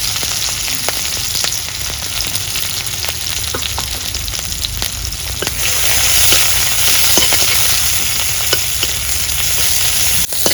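Green chilies and chopped onion fry alongside boal river fish, a continuous loud sizzle with sharp crackles and occasional stirring scrapes, swelling slightly louder midway, no talking.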